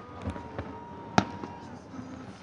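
A few fireworks at Shawano: one sharp crack stands out amid fainter distant pops, heard over a low background hum with a voice in the surroundings.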